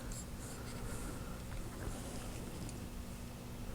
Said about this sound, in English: I was just using a marker. A paint marker on that, Tester's paint marker.